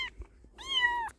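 A tiny baby kitten found among firewood gives two thin, high meows, a short one at the start and a longer drawn-out cry after a pause, close and fairly quiet with nothing else around.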